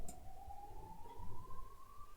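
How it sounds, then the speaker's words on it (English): An ambulance siren drifts in through an open window, a steady rising tone held over a constant background rumble of city noise, moderately loud but somewhat distant. "I apologize for the ambulance sounds, but it's crazy here."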